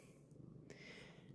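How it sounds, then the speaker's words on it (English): A pet cat purrs softly and close by in a quiet home, a faint rhythmic rumble with gentle pulsing breaths and a couple of brief higher clicks, no talking. "I don't know if you can hear my cat purring"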